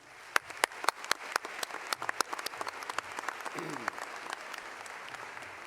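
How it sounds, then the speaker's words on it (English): An audience at a medical school white coat ceremony applauds the faculty with crisp, distinct claps that are loud at first and then thin out into scattered clapping. "How about a round of applause for our faculty?"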